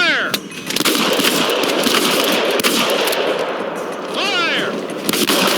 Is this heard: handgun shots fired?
yes